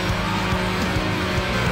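Race car engine revving steadily in the street-racing game Need for Speed Underground, a loud continuous drone with repeated throttle surges and faint tire squeal, with no voices over it.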